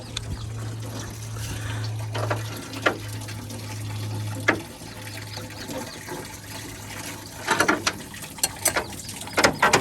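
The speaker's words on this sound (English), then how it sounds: "Now it's draining. All the coolant is draining." Coolant drains from a 1995 Chevy Silverado engine as a faint, steady trickle, with a low hum in the first half and scattered small metallic clicks and knocks throughout.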